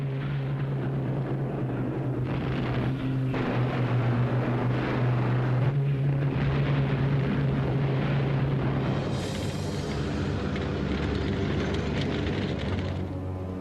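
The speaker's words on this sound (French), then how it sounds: "Les avions et l'artillerie alliés vont les matraquer sans relâche." Allied warplanes and artillery pounding retreating German troops in Normandy in August 1944, heard as a continuous loud rumble of aircraft engines with a steady low drone, distant heavy booms and a dense wash of noise throughout.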